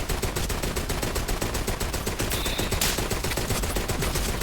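Sustained rapid automatic gunfire from weapons in the co-op shooter Borderlands 3, dense and loud throughout with overlapping bursts and a brief bright burst near the end.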